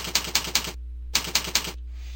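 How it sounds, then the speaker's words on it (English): Keys tapped on a computer keyboard while entering a username and password at a login page, two quick bursts of about four close, crisp clicks each separated by a short pause. "Type in your username and password."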